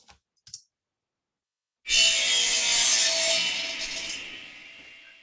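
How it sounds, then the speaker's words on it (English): Sawmill sound effect of wood being run through a saw blade: after a couple of faint ticks and near silence, a loud, harsh, grinding roar bursts in and slowly fades, with no talking. "I love the sound right after you run wood through, a blade."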